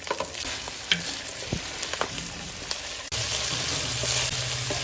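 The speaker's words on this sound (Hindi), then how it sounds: "इसको रोस्ट कर लेते हैं।" Broccoli roasting in a hot pan, a continuous sizzle with stirring scrapes that grows louder and denser partway through, close and alone without speech.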